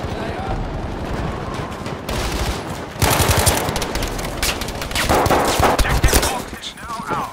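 Dense bursts of automatic gunfire crackle loud and close in Battlefield V multiplayer, rapid volleys that pause briefly and resume, with faint voices underneath.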